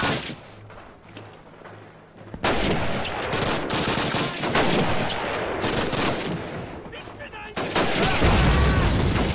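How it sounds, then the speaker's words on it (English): Artillery hit in Call of Duty 1 on the Warsaw tank factory level, a sudden heavy blast bursting in over distant gunfire, followed by sustained loud rumbling crackle and a second surge near the end. "you got hit with the artillery as well"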